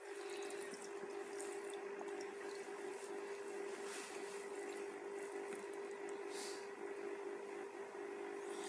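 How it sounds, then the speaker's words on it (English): Water pouring into a container for a Raspberry Pi automatic water level controller, a steady rushing, bubbling flow with a constant hum underneath, continuous and moderately quiet. "4 liter has already been poured up and it reaches a certain level"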